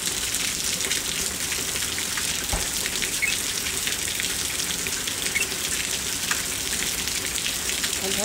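Heavy rain falls steadily in the United States, a dense, continuous hiss of drops pattering on surfaces, loud and unbroken, with a few sharper individual drips standing out.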